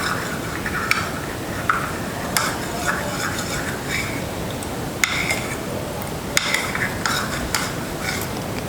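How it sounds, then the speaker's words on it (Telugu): A spoon stirs mango jelly mix with water in a bowl, a steady swishing with light clinks against the side at irregular intervals. "ఇందులో వాటర్ మిక్స్ చేసుకోవాలి. ఎక్కడ ఉండలు లేకుండా చక్కగా కలుపుకోవాలండి."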